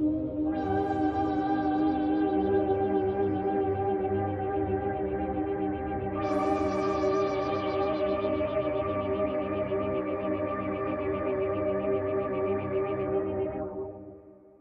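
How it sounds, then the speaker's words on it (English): Ghost, a soundscape and sound-design synthesizer from the Rigid Audio bundle, plays a sustained, effects-laden pad with chorus, echo and distortion; a bright swell enters midway before the drone fades out, with no talking. "So Ghost is another sort of soundscape, sound design type synthesizer"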